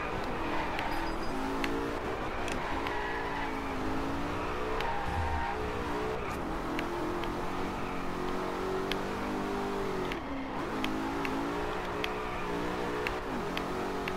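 A car in the racing game Drive Club revs and accelerates repeatedly, its engine pitch climbing and dropping through gear changes, with occasional tire squeal, loud and continuous throughout.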